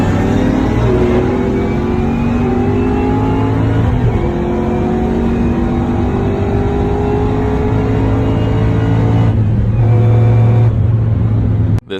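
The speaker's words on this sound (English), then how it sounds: "you gotta love the sound of those superchargers whining" Two supercharged muscle cars race flat out, an 850-horsepower six-speed Cadillac CTS-V wagon against a 900-plus-horsepower Jeep Trackhawk on a street in Mexico, engines roaring loud and steady with a rising whine that climbs through gear changes before cutting off abruptly.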